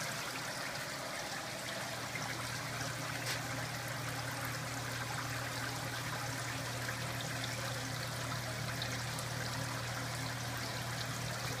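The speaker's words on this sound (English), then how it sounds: "So what happens is that water fills up, hits, spills across here, down, and out." Water steadily fills and spills over a weir in a DIY recirculating aquaculture tank system, a continuous faint trickling flow with a low steady hum beneath it.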